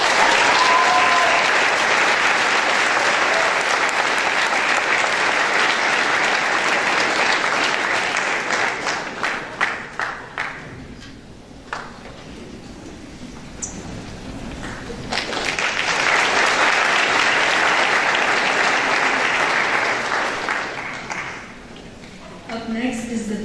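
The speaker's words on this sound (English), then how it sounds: "May I please have a round of applause for Maribel Mendoza to the stage to receive her scholarship" Audience applause at a high school scholarship night and awards ceremony, a loud sustained roar of clapping that thins and briefly fades midway, then swells again before tapering off.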